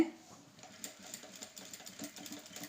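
A sewing machine stitches canvas for a designer blouse, its motor whirring in a quiet, steady run with a soft, fast needle rhythm throughout.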